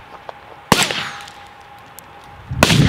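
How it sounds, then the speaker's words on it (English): Outdoors while rabbits are being hunted, two sharp, loud gunshots crack about two seconds apart. Each one is followed by a short ringing tail against a quiet background. "You shot me, Zach!"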